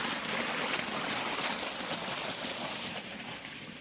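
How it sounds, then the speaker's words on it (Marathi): Irrigation water runs steadily into a sugarcane field on a farm, a continuous close wash of flowing, trickling water with no voices. "त्या पद्धतीने पाणी चालू असतं."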